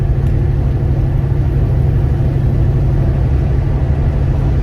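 Car with a rebuilt Gen IV L99 LS3 V8 accelerating hard through the gears, a loud, steady, deep engine roar heard close from inside the cabin.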